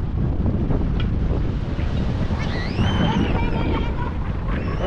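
Strong wind roaring across the microphone on a large bangka boat being lowered at sea: a loud, constant buffeting rush with no breaks, and faint voices mixed in.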